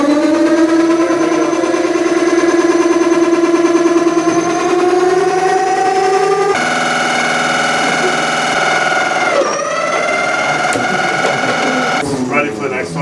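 A 12-volt battery-powered frisbee launcher spins up with a loud rising whine, its motor pitch climbing steadily and shifting in steps, with a rattling stutter near the end.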